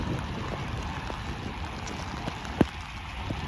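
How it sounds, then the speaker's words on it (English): Steady rain pours down during a storm in Apollo Beach, Florida, a continuous broadband hiss with gusty wind close by and one brief sharp knock near the end, and no talking. "the rain is coming down at a pretty good rate right now"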